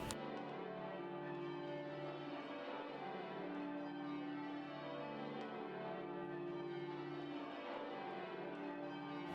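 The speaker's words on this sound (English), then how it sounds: "And bells are a very important part of" Church bells of Guildford Cathedral, an English Protestant cathedral, ring steadily and continuously, a dense layered peal with sustained overlapping tones and no voices.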